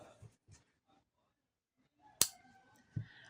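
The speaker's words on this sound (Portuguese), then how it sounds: "faço uma corrente e vou cortar o fio" Scissors snip through crochet thread in a single sharp cut, close and clear in a quiet room, followed by a faint soft handling sound.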